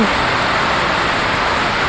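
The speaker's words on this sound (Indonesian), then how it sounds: "Jadi hujan" Rain falls outdoors as a dense, even hiss of broadband noise that stays loud and constant throughout, with no breaks or separate drops standing out.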